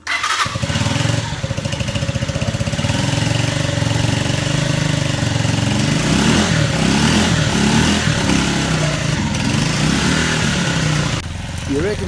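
A new motorcycle, just assembled from a crate and fuelled with petrol, starts and settles into a loud, steady idle. The engine chugs close by for several seconds and then dips in level near the end.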